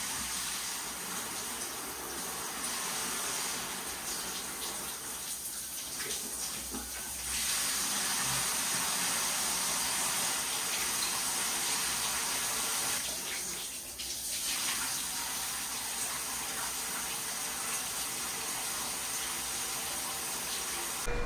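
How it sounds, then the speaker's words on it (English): A shower in a hospital runs steadily, water spraying in a continuous broad hiss that swells and dips slightly as the stream is interrupted, with no talking. "Shower with my love."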